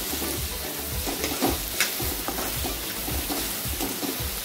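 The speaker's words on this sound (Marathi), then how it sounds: "कांद्यामध्ये टोमॅटो छानपैकी फ्राय करून घ्यायचा" Onion and tomato frying in a pan for a jackfruit curry, a dense, continuous sizzle with frequent spatula stirring scrapes close up, no talking.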